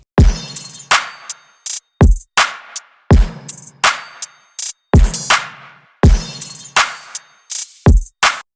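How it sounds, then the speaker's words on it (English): A programmed trap drum beat loops steadily, with punchy kicks, crisp snares and rapid hi-hat ticks in a repeating pattern, loud and dry with no voices. "So, somewhat simple trap drums."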